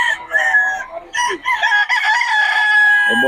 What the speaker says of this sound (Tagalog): Solido mga manokis ni Boss Tony yan mga idol.